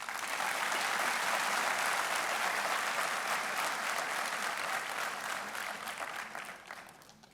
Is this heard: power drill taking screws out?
no